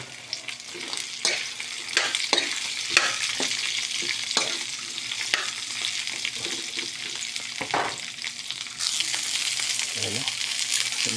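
String beans being stirred into browned chicken fillet for adobong sitaw, a steady frying sizzle with repeated scraping stirs and clinks through the clip, close and fairly loud, with a brighter hiss toward the end.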